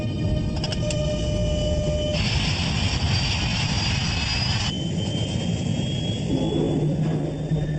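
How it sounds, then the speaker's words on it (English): Airliner jet engines roar at full throttle during a crash reenactment, a loud, continuous, dense rush with shifting whine tones, heard alone throughout. "Captain Caviedes applies full throttle, burning up more of the plane's precious fuel"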